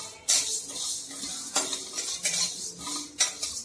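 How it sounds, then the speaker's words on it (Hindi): Coriander and spices dry-roasting in a pan over a low gas flame, a spoon scraping and clinking against the pan in several strokes over a steady soft hiss, close, no talk. "1-2 मिनट के लिए हल्के गैस में मैं भून लूंगी।"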